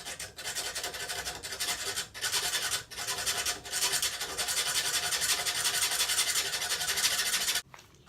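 A CRKT Minimalist Bowie knife is rubbed against sandpaper in long, harsh rasping strokes, close and loud, with a few brief pauses between passes before it stops abruptly.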